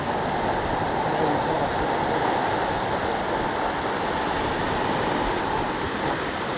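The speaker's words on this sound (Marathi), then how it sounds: "क्या स्पीड है बे पानी का" Fast, flooded Ulhas river rushes past in a loud, steady roar of churning water, broadband and constant throughout, with no pauses or distinct splashes standing out.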